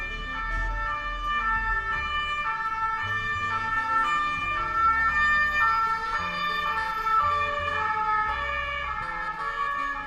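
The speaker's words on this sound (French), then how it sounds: "on termine par une ambulance" A wailing ambulance siren with steady alternating tones, passing in a French street scene and running loud and continuous throughout, with no one speaking.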